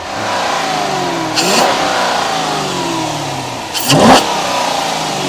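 A V8 Dodge Charger that had been parked a long time, during a rebuild: its engine cranks and catches, then revs up and back down twice in quick blips, loud and close, with no talking over it.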